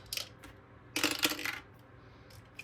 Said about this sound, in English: and so we're gonna roll the dice